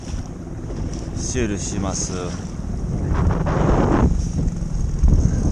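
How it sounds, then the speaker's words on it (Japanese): Strong wind buffets the microphone aboard a fishing boat casting for Spanish mackerel on a rough sea off Fukui, Japan, with choppy water rushing below while someone talks briefly. "海結構荒れてます。"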